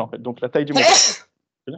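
A single loud sneeze bursts out right after a few words of French speech during a conference talk, followed by a moment of silence before the voice resumes.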